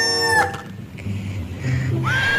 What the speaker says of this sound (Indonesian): Kalau yang ini ada ayam